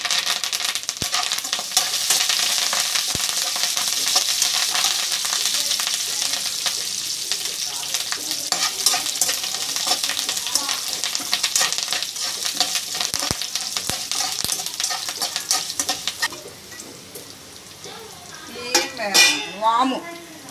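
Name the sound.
green and dried chillies frying in a pan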